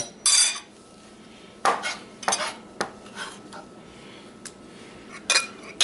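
Tartar sauce ingredients are mixed in a bowl with a utensil, giving several brief clinks and scrapes spaced out over quiet moments, close and fairly loud, with no talking.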